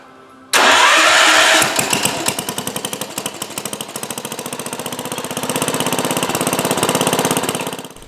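Allis Chalmers 310 tractor engine, flooded with fuel and fitted with a new battery, cranking loudly with a rapid rhythmic chugging that goes on for several seconds after a sudden start.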